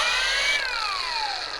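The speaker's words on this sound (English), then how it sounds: "We've never used a machine polisher which sounds like it, and it actually sounds really cool." A ShineMate EB351 cordless dual action polisher running, giving a high whining tone that drops in pitch partway through, steady and close with no voices.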